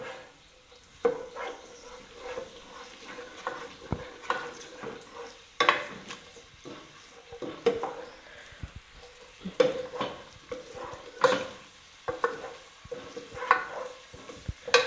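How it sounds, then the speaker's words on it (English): Ground beef for tacos stirred and mixed in a pan, with irregular scraping utensil strokes and soft sizzling, loud and close, and a few sharper clanks of the spoon against the pan. "And now you're going to mix. Make sure it is perfectly mixed."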